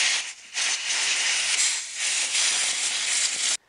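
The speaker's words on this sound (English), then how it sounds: "So we're just going to give her a bit of compressed air just to clear out that area." Compressed air blasts steadily into the engine bay of a Chevrolet Captiva around the camshaft solenoids, a loud continuous hiss with a brief dip near the start, cutting off abruptly at the end.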